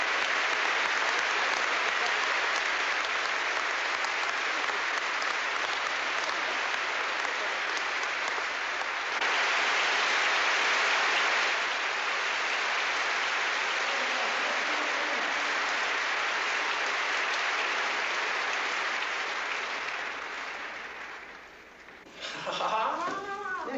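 Audience applause at a concert, a dense, steady roar of clapping that carries loudly for about twenty seconds and then thins out and fades near the end.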